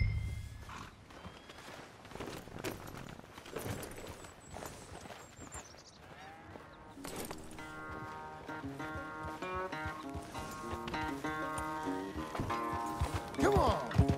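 Horse hooves clip-clop in Red Dead Redemption 2, soft steady footfalls near a corral that continue under rising game music and ambient sounds.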